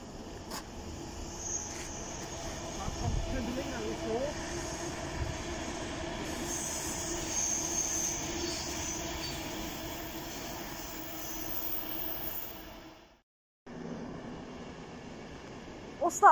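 A train departs through South Hampstead with a long, steady rumble and faint wheel squeal, then cuts off abruptly as it enters the tunnel, followed by quieter ambience.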